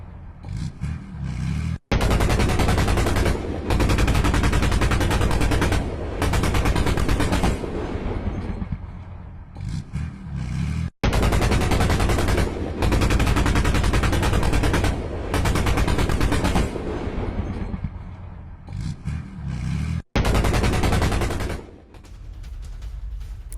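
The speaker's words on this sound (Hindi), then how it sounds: "यूक्रेनी BMP-2 से ताबड़तोड़ फायरिंग हुई है।" Sustained heavy automatic gunfire from a Ukrainian BMP-2 infantry fighting vehicle firing on a Russian bunker position, loud continuous bursts with brief pauses, no talk.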